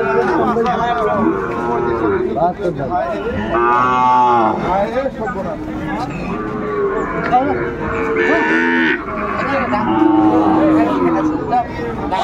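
Sahiwal cattle moo repeatedly, long low calls rising and falling, over a busy crowd of voices chattering and bargaining in the background at a cattle market.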